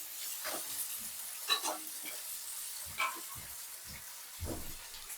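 Chopped onions sautéing in hot oil for a kurma, with spatula stirs scraping the pan in short bursts over a faint, steady sizzle; no talking.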